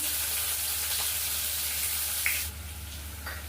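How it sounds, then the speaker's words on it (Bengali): Onion sizzles and crackles steadily as it fries in hot mustard oil with cumin, a close, continuous hiss that thins out briefly near the end. "পেঁয়াজটা ভাজা হয়ে গেছে"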